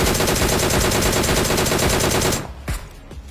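Sustained automatic gunfire from PUBG Mobile, a loud rapid rattle of shots that runs continuously for over two seconds before cutting off, followed by a couple of fainter isolated thuds.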